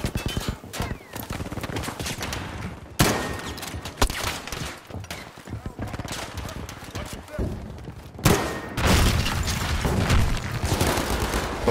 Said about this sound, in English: Thank you for shooting at me, Blueberry.